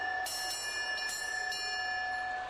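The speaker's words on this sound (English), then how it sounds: "This is more like the Hunchback of Notre Dame bell." Bell sound effect in a wrestling broadcast setting, struck several times in quick succession, each clear metallic ring sustaining with bright tones that linger and overlap, loud and close with no talk.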